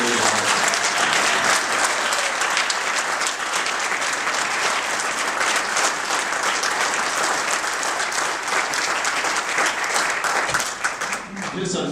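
Sustained, full round of applause from guests at a retirement party, dense crowd clapping holding steady throughout and thinning slightly at the very end.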